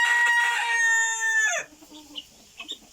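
A rooster crows loudly, a long harmonic call lasting over a second, then fades into quieter background clucks and faint bird noises.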